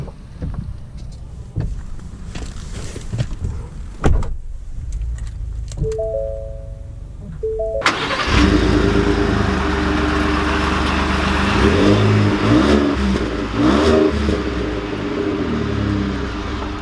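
A 2020 Ford F-150 King Ranch pickup starts up after a few clicks and chimes, then its engine settles into a steady, fairly loud running drone as it pulls away and drives, with rising and falling revs.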